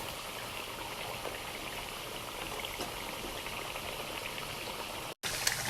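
Plantain slices frying in hot oil in a home kitchen: a steady, soft, even sizzle that runs without a break, with a brief dropout near the end.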